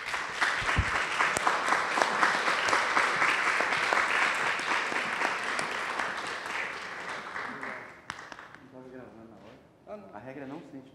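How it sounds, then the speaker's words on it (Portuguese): A literary talk audience applauds as author Luiz Ruffato is welcomed to the stage, a dense sustained round of clapping that fades after about eight seconds, followed by people speaking. "o Luiz Rufato para vir ao palco receber as palmas do público."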